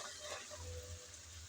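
Taro stolons with shrimp hit hot oil in a pan, producing a brief, close, steady sizzle with faint stirring, no talking.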